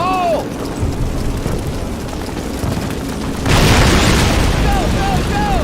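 Explosives detonating in a Call of Duty Classic cutscene: rumbling battle ambience with whistling incoming shells, then a loud broadband blast roughly two-thirds through that lingers as a heavy roar, close and dominant.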